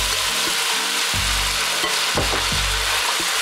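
Marinated beef hitting very hot oil with ginger and garlic, making a loud, continuous frying hiss up close, with a few stirring knocks on the pan.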